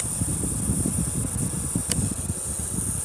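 Small electric fan running steadily on its high speed setting, a constant broadband whoosh with a faint high whine, close and continuous with no talking.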